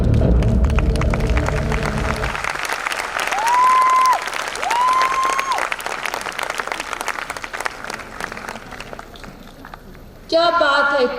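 Loud applause from an audience at an Independence Day celebration, following a stage performance, sustained clapping with crowd noise for several seconds, fading briefly and then swelling again near the end.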